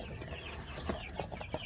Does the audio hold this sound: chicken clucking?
yes